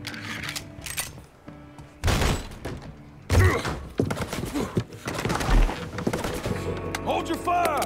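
Gunfire in Mafia III, scattered loud shots and impacts arriving irregularly over several seconds amid game ambience and music-like tones.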